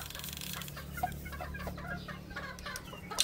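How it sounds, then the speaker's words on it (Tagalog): A hen clucking among other chickens at a gamefowl farm, with short, irregular clucks and calls over a steady low farmyard hum, and no talking. "parang merong inahin din sa labas"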